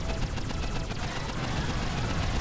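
Shock blaster fire in the mobile strategy game Boom Beach crackles as dense, rapid bursts of gunfire-like blasts, a continuous busy barrage layered in the battle din.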